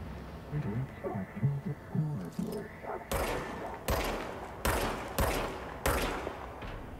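A gun fires in the video game Control: four loud, sharp bursts spaced about a second apart in the second half, after a stretch of quieter game sounds and a speaking voice.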